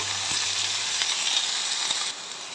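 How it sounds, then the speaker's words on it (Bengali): Washed taro stalks frying in a hot pan with a pinch of asafoetida, a dense steady sizzle close up with a few soft stirring knocks, dropping slightly in level toward the end. "এবার ধুয়ে রাখা কচুর ডাঁটিগুলো দিয়ে দিচ্ছি। এরকম করে নাড়াচাড়া দিয়ে নেব।"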